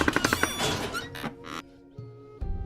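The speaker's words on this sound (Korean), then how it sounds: "목재 여러 개가 서로 부딪히는 것 같은 소리였다." Several hollow wooden knocks and clatters in quick succession, then a couple of separate dull thumps after short pauses, fairly close and loud.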